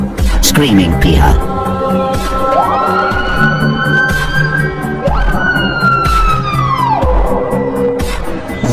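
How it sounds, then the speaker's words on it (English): A screaming piha rings out with loud, rising whistled calls, two long upslurred notes each swelling then dropping away, set against dense forest chorus and background noise. "Screaming piha."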